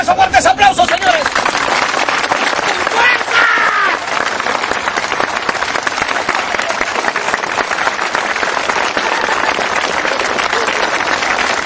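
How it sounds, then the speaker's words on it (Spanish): Strong, sustained applause from a live audience at a Peruvian stand-up comedy show, a dense wall of clapping that stays loud and steady throughout, with faint crowd murmur and a brief voice near the start. "regálenme esos fuertes aplausos, señores"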